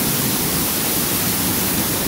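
Small waterfall on rocky property in Tennessee, swollen after about 22 hours of heavy rain, a close, steady broadband roar of rushing water that holds constant throughout with no voices.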